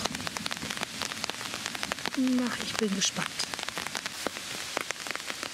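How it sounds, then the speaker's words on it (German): Steady rain patters on surfaces during a thunderstorm, a dense continuous hiss with scattered drop ticks, while a voice speaks briefly over it midway. "Wichtig ist ja, dass es endlich regnet."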